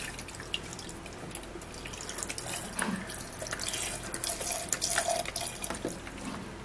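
Tap water runs steadily into a glass, a constant close hiss and splash with faint dripping, alone with no talking.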